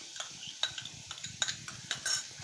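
Garlic added to butter with a little desi ghee in a pan for creamy mushroom soup, stirred with a utensil: irregular light scrapes and clinks over a soft, low sizzle, close by, no voices.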